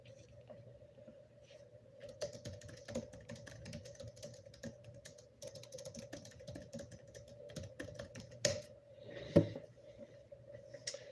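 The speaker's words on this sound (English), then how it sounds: "I'm going to be typing a little bit as I go" Soft, irregular tapping of keys on a computer keyboard, close by, with bursts of typing and brief pauses over a low background hum.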